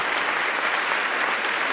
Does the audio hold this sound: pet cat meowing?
no